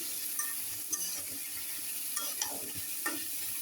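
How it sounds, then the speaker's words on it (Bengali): Bitter gourd and potato pieces stirred in hot oil, a steady soft sizzle with a few brief scraping knocks of the spatula against the pan. "আমি এই যে কাটের করলা আর আলুটা দিয়ে দেব এখন ভালো করে নাড়া দিয়ে নেব"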